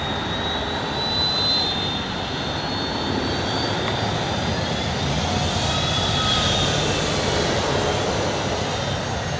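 A fixed-wing airplane taxis back along a runway in Wales, its engine producing a steady, fairly loud drone with a whining tone that swells slightly over time.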